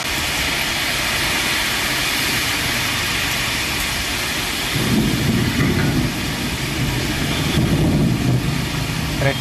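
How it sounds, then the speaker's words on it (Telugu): Heavy monsoon rain pours down on Hyderabad as a dense, steady roar with no break, growing louder and deeper in the second half with a low rumble underneath. "హైదరాబాద్ లో వర్షం దంచు కొడుతుంది"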